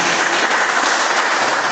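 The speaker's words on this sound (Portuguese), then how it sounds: "dê uma salva de palmas bem alegre para Jesus" A large church congregation claps steadily and loudly, a dense, even wash of applause throughout.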